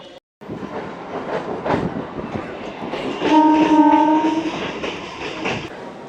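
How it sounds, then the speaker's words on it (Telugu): A MEMU passenger train rumbles and clatters nearby, slowing as it comes into Malleshwaram station, Bengaluru, with a sustained horn blast in the middle. "మల్లేశ్వరం స్టేషన్కి మన ట్రైన్ చేరుకుంది"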